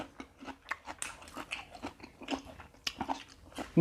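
Crisp, crunchy chewing and biting of raw winter vegetables eaten alongside a spicy cucumber and squid salad, with close, irregular bursts of crunches and no talking.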